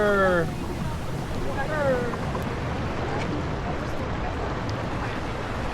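Ocean waves roll onto the shore at Dingalan Beach, a continuous broad rushing surge mixed with wind buffeting the microphone, with someone talking briefly at the start.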